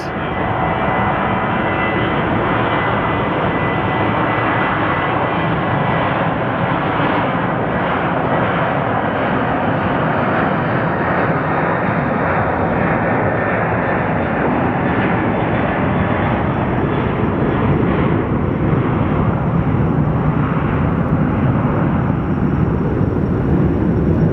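Airliner taking off at Phoenix Sky Harbor Airport, a loud, steady broadband jet engine roar filling the whole stretch without a break, swelling slightly toward the end with no voices on top.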